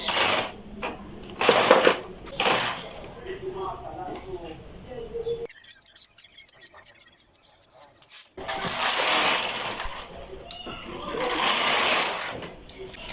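A knitting machine's carriage sweeps back and forth at tension 6 while knitting rows of a sleeve, making bursts of whirring swishes with a quiet pause in the middle.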